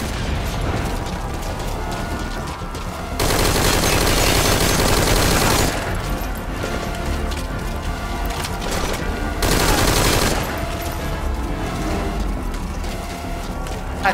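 Gunfire in Metal Gear Solid V: Ground Zeroes with alarms raised, loud dense bursts of automatic fire in two long stretches, separated by quieter mechanical clatter and game ambience.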